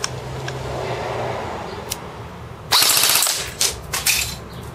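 A Magpul G&P MOE PTS airsoft M4 rifle rattles off a rapid full-auto burst in a quiet room, with a fast chattering string of shots followed by a few shorter bursts and clicks.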